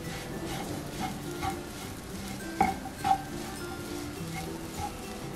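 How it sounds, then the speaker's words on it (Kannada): Samosa stuffing seasoned with garam masala and turmeric being stirred in a pan: soft scraping and light spoon-on-metal clinks with a faint sizzle, two sharper knocks near the middle, close and fairly quiet. "ಇದನ್ನೆಲ್ಲಾನು ಚೆನ್ನಾಗಿ ಕಲಸಿಬಿಡೋಣ"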